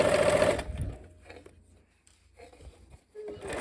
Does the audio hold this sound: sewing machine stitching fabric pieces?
yes